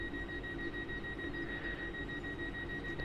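Steady two-tone electronic buzzer of a train door in a German train simulator game, sustained and even for several seconds over a low rumbling cabin background, no talk.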